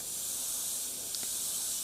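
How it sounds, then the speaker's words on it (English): An airbrush sprays paint with a continuous soft, even hiss, close and steady for the whole moment, with no talking. "what you need to be looking at when you're spraying paint"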